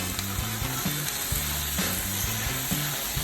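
Shrimp and tomato sizzle and fry steadily in a hot pan for jambalaya pasta, a close, continuous crackling hiss with a faint rhythmic clatter underneath and nobody talking.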